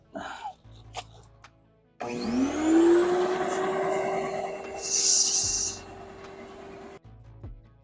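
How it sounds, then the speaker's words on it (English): A shop vac switches on and runs steadily at close range with a loud rising whine and broadband roar, drawing air through a rag-sealed fitting during air conditioner maintenance, then cuts off after about five seconds. "We turn our shop vac on."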